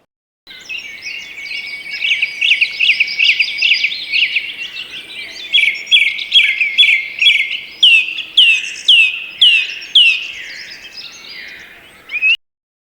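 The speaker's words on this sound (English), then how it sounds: "That's the song thrush. Take a listen." A song thrush sings in a UK smallholding dawn chorus, with clear repeated phrases of bright whistles and chirps arriving in steady bursts, close and loud, with no talk over it.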